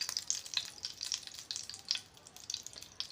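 Ghee sizzles and fries in a pan for semolina halwa, a quiet, crackly hiss with scattered pops and light stirring, heard alone without any talk.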